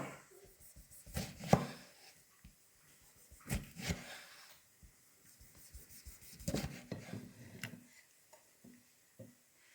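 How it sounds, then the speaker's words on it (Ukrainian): A knife cuts through a fresh tomato on a board for a potato pizza, giving irregular bursts of close, soft slicing and tapping with quiet pauses between cuts. "зараз нарізаю свіжий томат"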